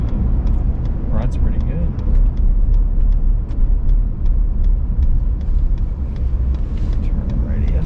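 Cabin of a 2020/2021 Ford F150 with the 5.0 V8, a steady low engine drone and road rumble running throughout while people talk over it; no sharp rise in revs stands out.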